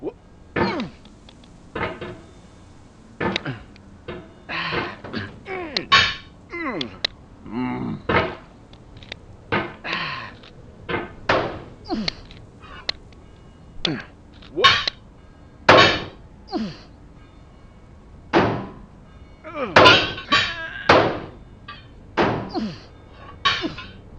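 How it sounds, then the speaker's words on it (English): A hammer repeatedly strikes rock in the game Getting Over It, giving irregular thunks and clanks spread across the stretch, mixed in with frequent talking and a cough. "I think anger makes you swing the hammer harder, and that can push you away from the wall."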